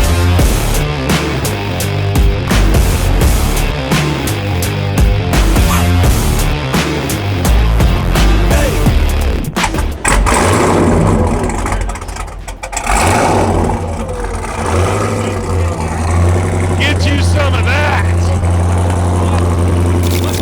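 Gas Monkey Garage's 1970 Chevrolet Chevelle, custom-built and unveiled at the SEMA 2025 show, revving hard in a loud sustained roar with rising and falling throttle bursts, then settling to a rumbling idle amid crowd noise.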